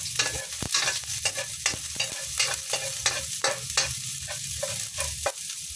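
Garlic sautéing in a frying pan for a vegetable stir-fry, a steady close sizzle broken by repeated scraping and stirring strokes of a utensil against the pan, with no talking.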